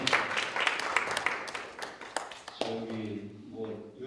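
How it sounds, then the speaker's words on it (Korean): Audience applause at a Korean hiking-trail forum in Muju, a dense patter of clapping for about two and a half seconds that thins out, with a voice speaking over the tail end. "박수 한번."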